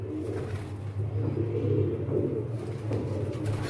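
Several pigeons coo steadily nearby, a dense low burbling chorus that carries on without pause, with a slight rumble beneath and no speech.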